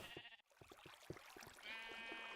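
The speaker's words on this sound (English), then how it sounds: "There's a sheep down here" A sheep bleats in Minecraft (InDev Plus), a quiet, wavering bleat over faint game ambience and soft clicking steps, with no talking.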